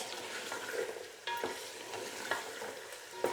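Spice masala for a beef nihari curry sizzling in hot oil, stirred with a spoon: a steady close fry with four or five distinct scraping strokes of the spoon against the pan.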